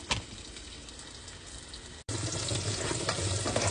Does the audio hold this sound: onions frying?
yes